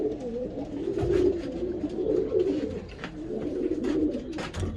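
Pigeons coo repeatedly inside a keeper's loft, soft throaty calls overlapping in a close, steady chorus with faint rustling and no talking.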